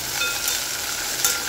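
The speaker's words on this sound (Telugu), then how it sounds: "సో ఇది మనము వేయించుకోవాలి." Wheat rava fries in hot oil in a pan for wheat upma, a bright steady hissing sizzle heard close and continuous.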